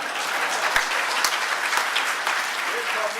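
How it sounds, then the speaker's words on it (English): Applause in a national assembly plenary chamber: a steady wash of clapping from members lasting a few seconds, with a few sharper individual claps standing out and faint murmuring beneath. "Now, that was a very meek applause"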